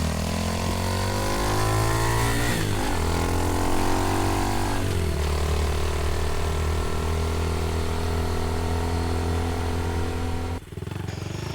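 Honda Trail CT70 widebody minibike on a ride, its small engine running steadily and loudly up close with a clear droning pitch that rises and dips as the throttle changes, then briefly cuts out near the end.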